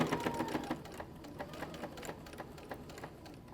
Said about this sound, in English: Stitch all the way up to your fold, which should be 1/4 inch away from the edge of the quilt.